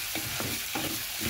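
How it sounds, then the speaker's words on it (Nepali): Ground cumin, garlic and ginger frying and being stirred in a pan for buff shapale, a loud close sizzle with rhythmic scraping stirs. "मैले अगाडि नै यसरी मसलाहरू हालेर चाहिँ फ्राई गर्दैछु प्यानमा"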